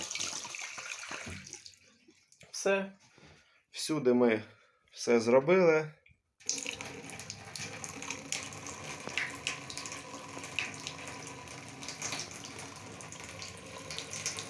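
Tap water runs steadily from a faucet after new water purification filters are fitted, a continuous broadband rush lasting several seconds, preceded by someone talking close by.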